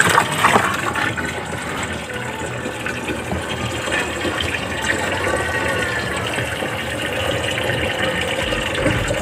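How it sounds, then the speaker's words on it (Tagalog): Water runs into a spin dryer that is failing to drain, a continuous rushing, gurgling fill that holds steady throughout at close range. "Lagyan mo po nga tubig."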